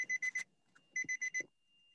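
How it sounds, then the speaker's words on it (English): Two bursts of quick electronic beeps, four in each, rapid and evenly spaced, with a short pause between, fairly clear and close, during a court detention hearing. "whoever's beeping, please control that."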